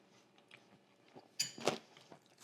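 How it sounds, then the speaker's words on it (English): Crunchy chewing of almonds mixed with cottage cheese: a few soft, close mouth crunches and bites, one sharper crunch standing out, heard alone at low volume. "So having the almonds gives a nice crunch with the actual cottage cheese."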